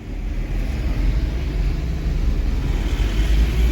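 Steady low rumble of road traffic inside a vehicle stuck in a jam, loud and continuous with a deep engine hum throughout and no talking.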